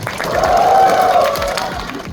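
A movie stage-greeting audience cheers and claps, a loud swelling roar of shrill cheers and applause that peaks early and eases slightly toward the end.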